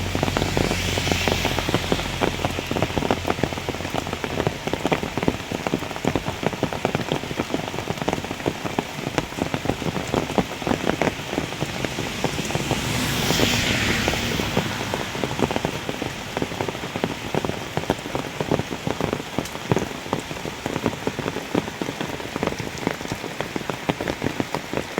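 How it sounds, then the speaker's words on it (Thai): Heavy rain pours steadily in a forest, a dense, loud and constant hiss of drops pattering on leaves and surfaces for the whole stretch, with no voices. "ตอนนี้ฝนตกหนักมาก"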